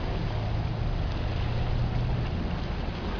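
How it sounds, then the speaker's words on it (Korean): Steady broadband rumble of engine and water at a port as the Daebu high-speed car ferry 5 arrives, a continuous low drone with wind and wash, no talk. "대부 고속 카페리 5호가 들어왔습니다."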